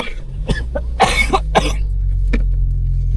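Several sharp coughs in a loose burst, then a lone cough after a pause, over a steady low rumble of background noise, in cold air.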